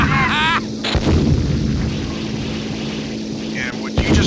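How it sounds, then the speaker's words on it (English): Rocket fire from Yamashita's tank in the video game Beyond Pearl Harbor: Pacific Warriors, a steady booming roar under continuous game noise, with sharp launch bursts near the start and end. "what you just heard are the rockets that they're equipped with"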